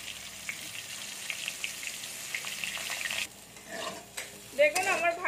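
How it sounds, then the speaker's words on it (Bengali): Young jackfruit pieces frying in oil for a Bengali curry with lentil dumplings, giving a steady soft sizzle with stirring scrapes, then louder clinks and bubbling bursts toward the end. "আমি এরকম করে সবগুলো ভেজে নিচ্ছি ইঁচড়গুলো"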